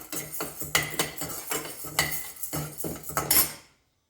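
Urad dal dry roasting in a pan, heard as repeated metallic scraping and clinking of a utensil stirring against cookware in quick, uneven strokes, loud and close, ending abruptly.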